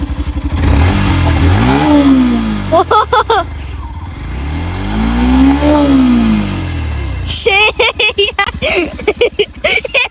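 A motorcycle is started at night and revved in two long rising-and-falling swells, then gives a string of sharp throttle blips, loud and close, with brief voices around it.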